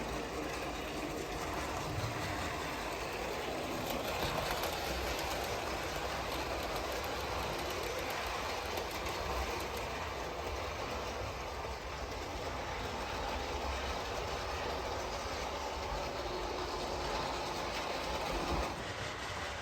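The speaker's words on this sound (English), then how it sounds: "Here comes our train." A model train rolls steadily along its track with a continuous broadband rumble and faint clatter, fairly close and without a break for the whole stretch.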